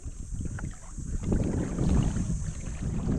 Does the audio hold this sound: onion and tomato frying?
no